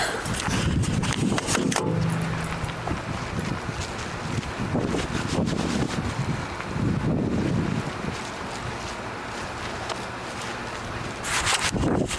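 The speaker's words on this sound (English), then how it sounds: "It's a bit windy and chilly tonight" Heavy wind buffeting a microphone outdoors on a chilly night, a steady low roar with gusty bursts throughout and a few rustling handling noises as gloves go on.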